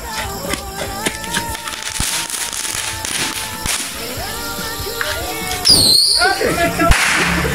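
Firecrackers go off in a village around Hari Raya, giving a string of sharp, loud cracks and snaps, some close and piercing, with a hissing fizz and a final bright pop near the end.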